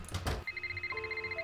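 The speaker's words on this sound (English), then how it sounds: "Oh, phone call." A telephone rings in the Nancy Drew game Secrets Can Kill Remastered: a short noisy burst is followed by a repeating electronic trilling ring with evenly spaced pulses, close and clear, with no talking.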